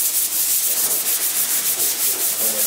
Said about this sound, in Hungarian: A vizsgafeladatnak megfelelően kittelnek, csiszolnak a diákok.